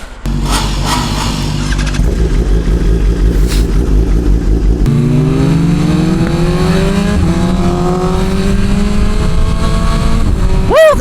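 BMW M1000RR sport motorcycle with a full SC Project exhaust pulling away on a ride, loud and close, the engine revving up through several gear changes with rising pitch sweeps and a final sharp rev.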